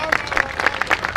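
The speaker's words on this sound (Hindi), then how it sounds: "एक बार जोरदार तालियां बजा दीजिए।" An audience at a comedy show claps enthusiastically, with distinct uneven clapping bursts and a murmur of voices running underneath.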